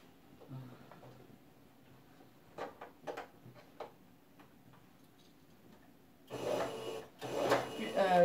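A domestic sewing machine being threaded gives a series of scattered mechanical clicks and ticks, then the machine runs in two loud, steady whirring stretches near the end, all close by.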